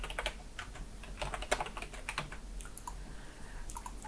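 Quick keystrokes on a computer keyboard as a password is entered during router setup, a steady patter of light clicks with one sharper tap midway, fairly close with no voices.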